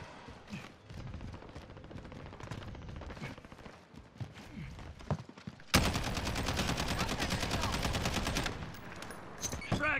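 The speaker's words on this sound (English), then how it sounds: "What are you guys shooting at?" Gunfire in the Warzone video game: scattered sharp shots and clatter, then a loud sustained machine-gun burst of rapid even shots lasting a few seconds before fading back to sporadic noise.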